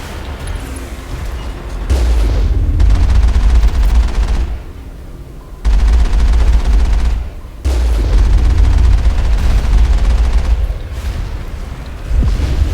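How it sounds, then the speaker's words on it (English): The Mako tank's gun in Mass Effect fires in long, heavy bursts of rapid booming rounds, loud and dense, with short pauses between volleys. "the bullet spray is wild. It just goes everywhere."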